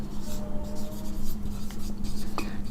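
Pen scratching across paper while writing out a maths solution for a real-numbers exercise, a short, steady close scratching stroke under a low background hum.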